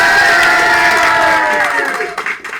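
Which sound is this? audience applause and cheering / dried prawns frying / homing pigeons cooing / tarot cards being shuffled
audience applause and cheering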